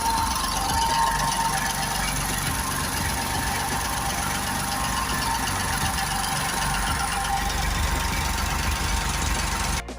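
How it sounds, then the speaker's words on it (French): Engine of a 1965 Renault Super 7 tractor running loud and steady, with a dense continuous rumble and knocking throughout and an abrupt stop at the very end. "Alors on démarre enfin pour que tous les circuits se replacent tranquillement."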